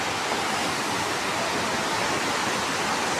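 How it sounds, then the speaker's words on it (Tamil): Steady, dense rushing of water pouring down a waterfall at Courtallam, constant and full with no pauses. "தண்ணி பாருங்க சரியான தண்ணி போகுது"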